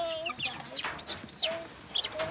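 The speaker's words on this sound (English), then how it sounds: "That's chicken." Egg-laying backyard chickens cluck in short, separate calls at close range on a homestead, with a few brief sharper squawks mixed in and no talking.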